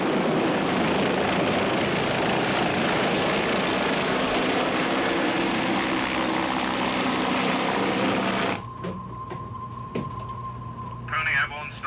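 A helicopter's turbine and rotors roar loudly and steadily as it lifts off a warship's flight deck, then the noise drops away abruptly near the end, leaving faint radio-style voices and tones.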